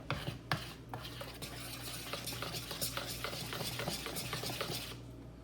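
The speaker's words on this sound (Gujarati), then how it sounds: "હળદર નાખી દઈએ, કરી દઈએ મિક્સ" Vada pav batter with turmeric being stirred in a bowl, a steady scraping and swishing churn with sharp utensil knocks near the start, close and continuous for several seconds.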